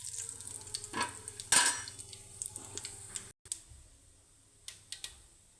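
A spice tempering for ripe red chilli and tamarind chutney crackles in a pan, with faint sizzling and sharp pops and clicks coming in short bursts and scattered ticks, with no talking.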